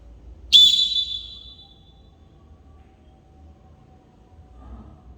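A single sharp referee whistle blast for a volleyball team change sounds near and loud, then decays quickly into near silence, with a faint low hum lingering afterward.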